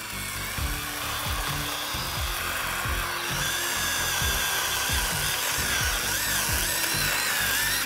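A small 12-volt cordless power tool whirs steadily outdoors on a hillside, its motor buzzing continuously with rough grinding texture and no talking, fairly close.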